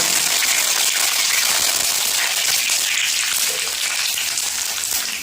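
Curry leaves dropped into hot oil with mustard seeds for a coconut tomato rasam, giving a loud, steady, hissing sizzle that crackles throughout and eases slightly toward the end.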